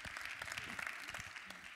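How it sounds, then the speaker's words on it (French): Brief, faint applause from a small audience at a business round-table event, a soft patter of clapping heard from a distance with no talking. "Vous pouvez l'applaudir"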